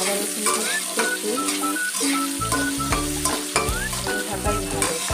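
Okra and chopped potatoes fry in an oiled pan with a dense, continuous sizzle, and repeated scraping strokes of a spatula stir them in an uneven rhythm close by.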